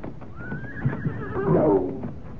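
Horse neighs in a radio mystery drama sound effect, a loud rising whinny swelling mid-clip over a busy rumbling background, with faint hoof clatter beneath.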